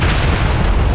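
Bombs exploding in War Thunder, dropped from an S.79 Sparviero bomber, producing a loud, continuous, rumbling blast that fills the whole moment.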